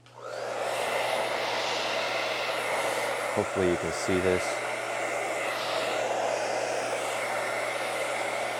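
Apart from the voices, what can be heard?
blow dryer blowing alcohol ink around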